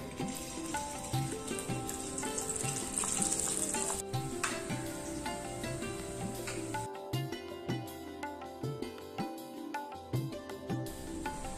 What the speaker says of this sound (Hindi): मूंग दाल पेस्ट की इस बूंदी को इस तरह से हमें लाइट गोल्डन ब्राउन कलर में डीप फ्राई कर लेना है